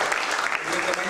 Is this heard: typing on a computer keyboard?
no